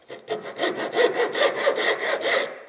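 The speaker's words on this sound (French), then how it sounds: "Et pour ça, une scie à métaux" A hacksaw cuts through a metal screw thread in steady back-and-forth strokes, about ten rasping passes close up, alone with no talking.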